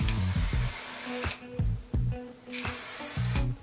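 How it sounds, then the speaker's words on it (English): Repeated short hisses of an aerosol vegan, natural hairspray can sprayed on hair, several bursts in quick succession with brief pauses between them, close to the listener. "I'm gonna be spraying my hair with some vegan, natural, cruelty-free hairspray."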